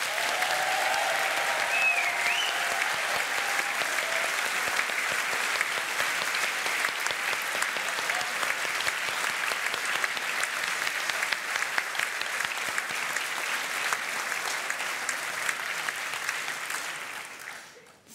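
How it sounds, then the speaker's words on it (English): A large crowd applauds steadily at a university graduation ceremony in a hall, a sustained dense clapping that holds for about seventeen seconds before tapering off at the end. "should we have a massive round of applause since we now officially have all the graduates in the room?"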